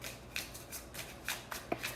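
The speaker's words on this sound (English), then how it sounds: "I was like feeling like little flutters as I was like shuffling the deck." A deck of cards is shuffled by hand in a quiet room, a run of soft, irregular riffling snaps close by with brief gaps between bursts.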